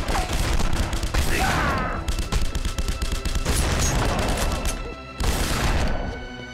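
Shotgun blasts and dense gunfire rattle out in quick, loud bursts in The Punisher on PS2, with booms and crashes overlapping in a chaotic firefight and a brief lull before it resumes.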